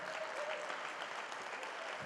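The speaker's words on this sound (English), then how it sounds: "give a huge round of applause for these fine folks leading us in worship this morning" A conference crowd applauds steadily, a dense wash of clapping hands sustained at an even level throughout.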